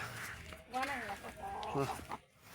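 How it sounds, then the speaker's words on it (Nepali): Village chickens clucking in a rural farmyard, a few short clucking calls coming through over a person talking nearby, moderately close and not loud. "कुखुरा यहाँ छ कुखुरा"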